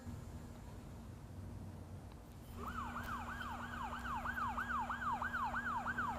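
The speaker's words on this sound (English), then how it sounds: "it sounds like a siren" A wailing emergency siren cuts in partway through, its rising and falling sweeps repeating steadily and growing loud over a low background hum, with no voices.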